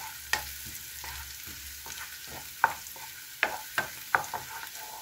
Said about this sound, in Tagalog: Ating lutuin ang ating bawang.